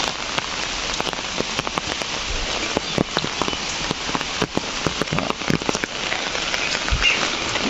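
Steady rain pours over a home vegetable garden in Assam, a dense continuous hiss dotted with sharper drop hits on nearby surfaces, loud and close with no voices.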